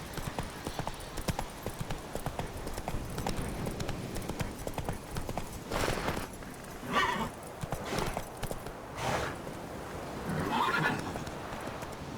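Roach the horse in The Witcher 3 trots with a steady clip-clop of hooves and neighs a few times over the running hoofbeats, with some speech faintly underneath.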